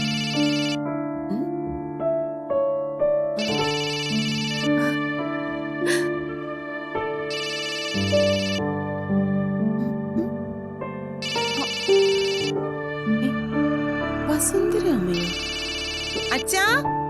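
A telephone rings with a melodic ringtone in repeated bursts separated by short pauses, in an indoor domestic scene with music playing under it.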